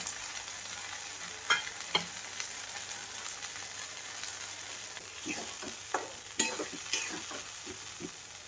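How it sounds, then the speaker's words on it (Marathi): Fried paneer cubes dropped into a sizzling vegetable curry and stirred, a quiet steady sizzle with scattered clicks and scrapes of a spoon against the pan, sharper taps clustering toward the end. "हे तळून घेतलेलं पनीर आता टाकून घेते"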